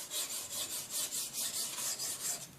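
Sharpening the bevel of a scissor blade produces a quick, even series of about a dozen rasping file strokes. They are soft and close, keep a regular back-and-forth rhythm, and fade slightly at the end.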